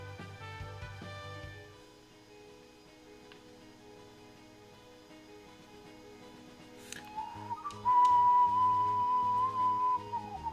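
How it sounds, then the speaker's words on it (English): A person whistles a tune in a live gaming stream, a faint held tone at first that turns into a clearer, louder sustained whistle near the end, over a quiet musical background. "I shouldn't whistle on stream"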